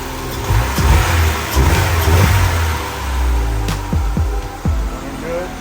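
A 1999 Honda Civic LX with a swapped B20V engine runs close by, settling into a rough idle and then giving several short, sharp throttle blips in quick succession.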